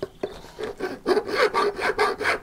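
Hand file rasping across a cut metal flange during a boiler installation, a series of rhythmic, close scraping strokes, each a few tenths of a second long, with no voices.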